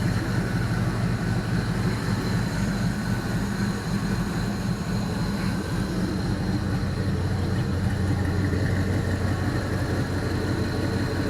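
A GM LS V8 engine idles steadily while warming up, with a deep, continuous rumble and mechanical hum, close and constant throughout with no voices.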